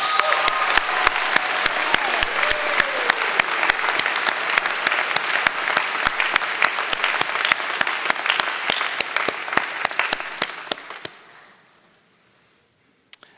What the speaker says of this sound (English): Can we have another round of applause for our student award winners?